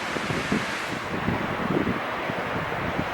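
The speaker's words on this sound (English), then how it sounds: "It is windy here." Strong wind roars across a railway trestle at Cameron Lake, a steady broadband rush with low buffeting thumps against the microphone, continuous and loud with no voices.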